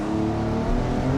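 2021 Porsche 911 Targa of the 992 generation in Sport Plus mode pulling away hard from a standstill, its engine a loud, close, continuous roar that holds steady throughout without any talking.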